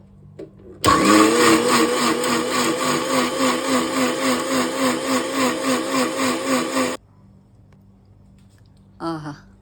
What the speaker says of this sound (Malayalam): ഇതൊരു മിക്സിയുടെ ജാറിലിട്ട് നല്ലപോലെ പേസ്റ്റ് ആക്കണം.